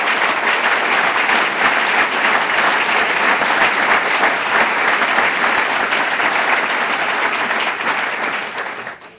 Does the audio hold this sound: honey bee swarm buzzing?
no